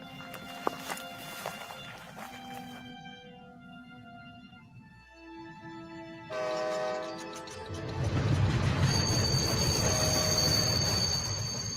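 A train at a Detroit station rumbles and screeches, with horn-like tonal blasts and rising wheel squeal building to a loud, broadband roar near the end; faint footsteps and a trace of voices.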